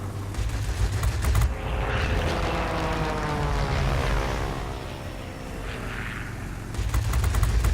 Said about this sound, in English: You can hear the little pings in the background as as my guns come on target.